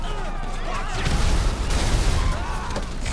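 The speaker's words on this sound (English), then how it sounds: "They were shooting at me in there." Gunfire and explosive booms from the video game Grand Theft Auto V, dense loud bursts of shooting over a rumbling low-end blast that peaks midway, with a voice talking beneath.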